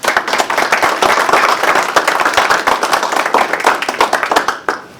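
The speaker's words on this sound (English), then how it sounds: "A round of applause for them, please." Audience applause at a fire protection district captains' pinning and oath of office ceremony: close, loud, sharp clapping from a crowd that holds steady, then tapers off near the end.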